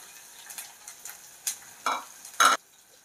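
Onions frying in a pan for Malvani-style egg masala, with soft sizzling and a few scraping stirs that build to louder, sharper strokes near the end.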